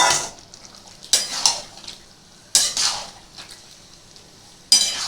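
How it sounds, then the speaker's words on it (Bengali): Potato and pointed gourd being mixed into a Bengali prawn curry in a pan, with sharp metal spoon scrapes and clanks in three bursts separated by quieter sizzling stretches. "একদম এটা আমি মিশিয়ে দেবো, পটল আলুটা মেশাবো"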